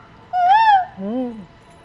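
A voice imitates a cuckoo call with two clear, hooting notes, the first higher and the second lower, close and loud.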